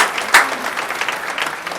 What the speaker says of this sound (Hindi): आप जोरदार तालियों से उनका अभिनंदन करें, स्वागत करें, वेलकम करें